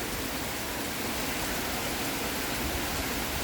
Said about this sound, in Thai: ได้ยินเสียงฝนว่าพี่น้อง เออตกคักตกแน่